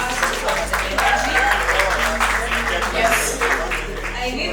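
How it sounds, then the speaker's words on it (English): Applause from an audience at an awards event, a steady wash of clapping lasting several seconds while a loud voice talks over it through a microphone. "Let's all applaud please."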